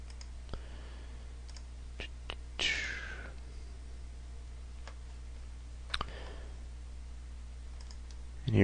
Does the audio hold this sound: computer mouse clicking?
yes